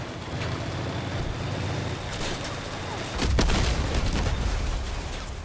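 Scorpion weapons fire and explode in a vehicle combat video game, a steady rumbling barrage that swells into a louder, closer burst of blasts midway through.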